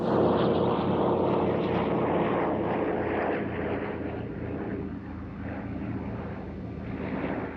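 Lisunov Li-2, a licence-built DC-3 propeller airliner, flying at a Russian Air Force anniversary airshow, a steady droning piston-engine and propeller hum that fades slightly midway and swells again, heard alone without voices.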